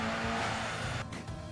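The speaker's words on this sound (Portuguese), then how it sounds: "O ronco do escapamento é mais encorpado" A car's exhaust roars steadily and loud at close range, a full-bodied but not excessive engine note with a slight dip near the end; no one speaks.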